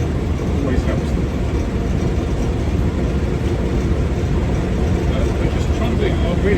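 A 1956 Land Rover Series 1 88in on correct 600/16 tyres trundles along at just under 40 mph, its steady engine drone and road rumble continuous and close throughout, with no talk over it.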